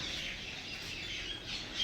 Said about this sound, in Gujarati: પક્ષીઓ આવી ગયા છે